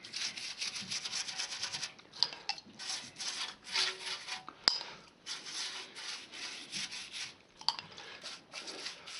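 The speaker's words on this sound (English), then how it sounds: "I'm just going to paint it liberally all over the casting." A cheap paintbrush spreads release agent liberally over a porous plaster of Paris rock casting, giving a steady scratchy brushing and rubbing in repeated strokes, close and fairly quiet, with brief pauses between passes.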